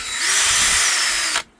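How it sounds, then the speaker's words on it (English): Power drill bores a hole through a small shackle pin aboard a C&C 39 sailboat, a close, steady high whine holding for over a second before cutting off abruptly. "with my trusty drill"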